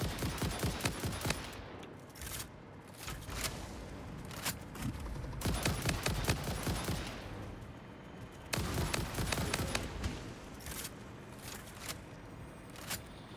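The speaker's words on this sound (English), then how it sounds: "so I'm going to shoot them first" Rapid bursts of gunfire from a first-person fight in the factory-building game Satisfactory, loud and close, coming in several dense volleys with short gaps, with no voices over them.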